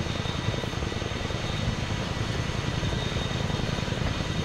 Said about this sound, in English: Is that a friendly helicopter to our southwest?